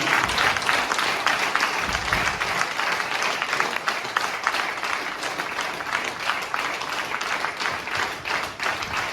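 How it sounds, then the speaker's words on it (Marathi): An audience at a laughter yoga group's anniversary gathering applauding during an honoring ceremony, a dense sustained burst of clapping from many hands filling the room, with a faint voice underneath. "एका जोरात टाळ्या प्रतिसाद देऊया"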